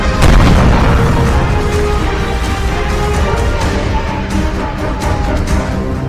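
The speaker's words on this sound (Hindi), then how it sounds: "दक्षिणी लेबनान में ऐसे धमाके दिन रात हो रहे हैं" Explosions from Israeli bombing in southern Lebanon: a loud deep boom opens, then a sustained heavy rumble of blasts and debris continues without pause.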